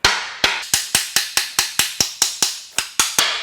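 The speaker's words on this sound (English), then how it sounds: "I'm gonna peen the edges of the threads so that way when the nut hits it, it locks up and it pulls the stud out" Steel hammer peening the thread edges of a stud on a salty, 200K-mile Subaru Outback EZ30R 3.0 H6 engine during teardown: about fifteen sharp metallic blows in a steady, fast rhythm, close and loud with no talking.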